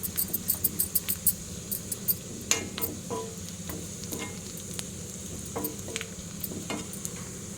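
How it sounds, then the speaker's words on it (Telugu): A seasoning of spices splutters in hot oil, a quick series of popping crackles at first that thins into scattered sizzling pops over a low, steady frying hiss. "ఇప్పుడు పోపు తయారైంది"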